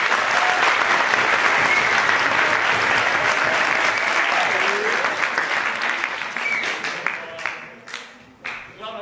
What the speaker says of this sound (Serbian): molim vas još jedan aplauz za njih